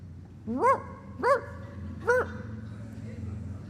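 A person's voice imitates a dog barking three times, short yelping woofs spaced about a second apart, close and clear.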